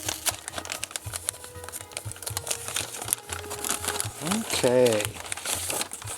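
Small plastic bags from a Cubusynth CS 20 dual VCF Eurorack synth kit crinkle and rustle up close in irregular bursts while a person speaks briefly.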